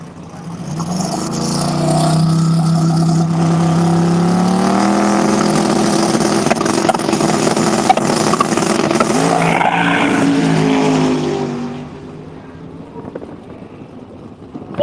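A loud Pro Mod drag racing car roars down the track, its engine note rising through the gears, then cutting off abruptly as it loses boost mid-track, leaving quiet background noise.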